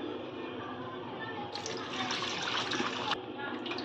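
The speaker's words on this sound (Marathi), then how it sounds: "असं 3-4 पाण्याने आपण स्वच्छ धुवून घेऊया" Half a kilo of raw chicken is rinsed under running water from a tap, giving a steady splashing flow that gets louder and brighter midway, alongside nearby kitchen noise.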